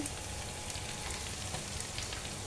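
Spice paste sautéing in a pan, being cooked down for a Bengali bottle gourd and prawn dish, a steady close sizzle and crackle that holds evenly without talk.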